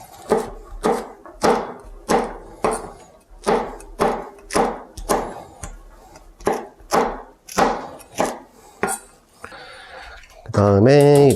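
Chili peppers are chopped on a cutting board, with a knife striking in a steady series of sharp, close thuds that pause briefly before a final clatter near the end.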